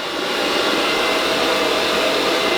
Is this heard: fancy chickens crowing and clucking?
no